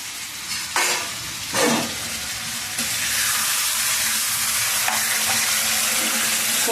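Chicken curry cooks on a stove with a steady, loud sizzle and bubbling hiss that swells after a few stirs and then holds constant.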